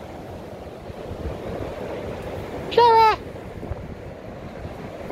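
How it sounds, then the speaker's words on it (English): Gusty wind on a windy day outdoors rumbles steadily against the microphone throughout, with a woman's brief call cutting through midway. "It's a pretty windy day, so we thought we'd bring everybody out."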